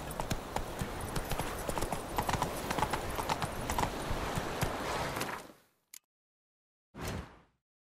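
Hooves clip-clop in a steady rhythm as a horse is ridden in The Witcher 3 video game, close and continuous for about five seconds, then the sound cuts out, leaving brief bursts.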